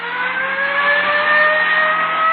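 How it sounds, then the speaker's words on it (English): A dark Chrysler sedan with a dented left fender drives past with a loud, steady engine hum that rises slightly as it nears, heard from inside another car, no voices. "The car that just passed us."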